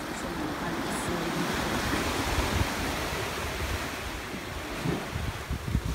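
Sea waves washing ashore right beside a seaside restaurant, a steady broad surf roar with wind buffeting the microphone, continuous and fairly loud, with a few low thumps near the end.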